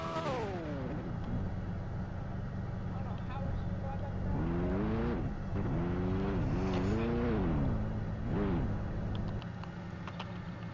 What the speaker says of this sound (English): Timmy just gave me a drifting Ferrari.